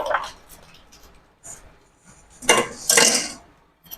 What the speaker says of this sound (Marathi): आता हे आपण सगळं मिक्स करून घेऊ।